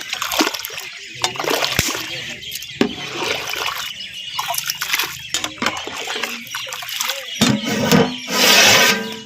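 Fifteen kilos of mutton tumble and splash into a large pot with turmeric for mutton masala powder gravy, giving loud wet splatters and sloshing, with a voice talking over the cooking.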